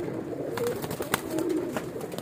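Weshi, Kansani and Sialkoti pigeons give low, rolling coos close at hand, two or three throaty calls amid soft rustling, with no voices.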